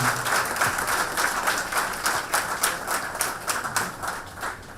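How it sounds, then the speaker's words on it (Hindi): An audience claps together in a sustained burst of applause that fades slightly toward the end. "एक बार अरुणिमा सिन्हा के लिए भी तालियां होनी चाहिए।"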